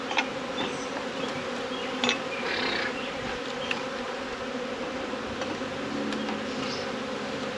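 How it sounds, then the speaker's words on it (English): Bees in an 8-frame hive buzz steadily in a dense, close drone, with occasional louder passes as individual insects fly near. "I'm doing that but pissing off bees at this point"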